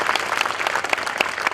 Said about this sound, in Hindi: तालियां बजाकर स्वागत।